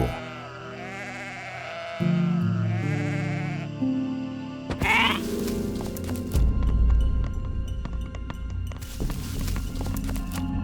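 Sheep bleat repeatedly over roughly ten seconds, wavering calls overlapping one another, with occasional hoof clatter and footsteps in the background and no speech.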